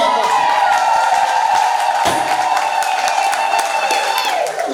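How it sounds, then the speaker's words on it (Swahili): A church congregation applauds and cheers for Michael in a dense, steady wash of clapping with raised voices mixed in, holding loud and unbroken throughout. "mpigieni makofi"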